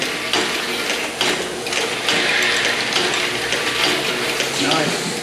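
Ammunition loading machines running in a factory, a dense, continuous mechanical clatter of ratcheting, rhythmic clicks and gear noise, fairly close and steady throughout.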